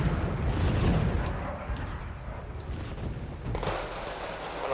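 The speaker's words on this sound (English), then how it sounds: "everything which is revealed to our artillery will be bombed immediately" Artillery shelling in Wargame Red Dragon, rumbling booms and distant blasts that blend into a dense, continuous low roar, with a few sharper reports in the mix.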